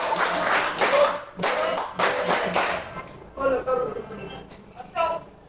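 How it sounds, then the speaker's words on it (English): A classroom of students claps in a few rhythmic bursts, loud and close, broken by short pauses. Voices of the teacher and students follow. "give ourselves a good clap"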